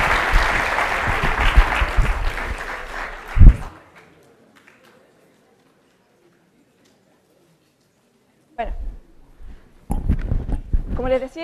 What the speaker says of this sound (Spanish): les pido a todos que demos un aplauso a nuestras invitadas